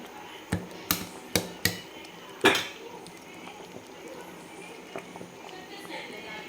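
A few sharp metallic clinks and taps of a utensil against a plate or pot as varanphal is served, four quick knocks then a louder clatter, followed by quieter scattered scrapes.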